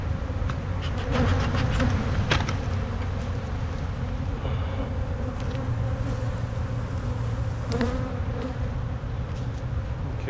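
Dense, steady hum of many honeybees at an open hive box being prepared for almond pollination, a continuous close buzz with occasional louder passes of individual bees and faint handling clatter.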